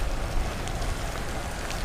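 Steady rain hiss during a bike commute home from work at about 22 miles an hour, a dense broadband wash of rain and wind noise filling the whole moment without talk.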